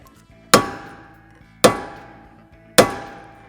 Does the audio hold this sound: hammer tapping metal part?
yes